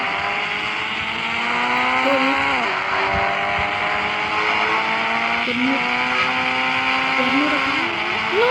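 Lamborghini sports car driven in a video game, its engine a sustained, tonal whine that rises and dips in pitch as the car accelerates and shifts, loud and close throughout.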